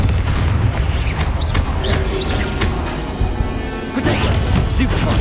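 Spell explosions from the Confringo fire curse in the game Hogwarts Legacy: a dense run of booming blasts and crashing impacts over a constant rumbling battle bed, loud and close throughout.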